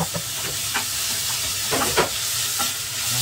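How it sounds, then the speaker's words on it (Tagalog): Onion, garlic, tomato and ginger sizzle steadily in a hot pan, with a few sharper stirring scrapes and bursts of crackle breaking through the constant frying hiss; no one speaks. "Isa lang natin siya hanggang maluto yung ating sibuyas, bawang, kamatis at luya."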